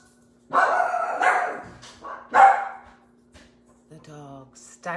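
A dog barks several times indoors, sharp and close, in a quick irregular series of loud woofs that fades into softer yips and a whimper.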